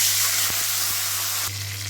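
Ghee-fried spice tempering for a Jagannath temple-style besara dish sizzles steadily and loudly up close, with a few sharp clicks and a brief surge near the end as water hits the hot pan.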